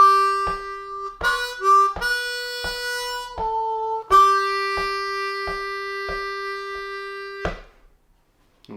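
Harmonica in 2nd position playing the slow melody of Amazing Grace, sustained reedy notes with breathy changes between them, alone with a faint steady tapping beat underneath.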